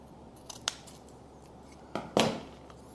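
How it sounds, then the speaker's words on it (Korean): Sharp scissors snipping purple leather lining to match the outer leather, a few distinct close cuts with short pauses between them, the last snip loudest. "이것도 튀어나온 안감 같은 경우는 보라색 이 겉가죽에 맞춰서 잘라줍니다"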